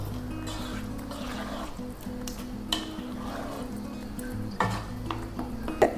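Prawns being stirred into gravy in a pan, a spoon scraping and clinking against the metal in close, continuous strokes over a low steady hum, with a few sharper knocks.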